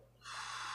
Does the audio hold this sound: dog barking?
no